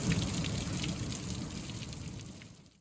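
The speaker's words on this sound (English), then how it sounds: "Well, some decent sized hail coming down." Decent-sized hail comes down outside, a dense patter of many small impacts forming a steady hiss that slowly fades, fairly quiet and with no voices.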